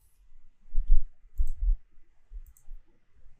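A computer keyboard is tapped to type a font name, giving a few soft, close clicks in short uneven bursts with pauses between.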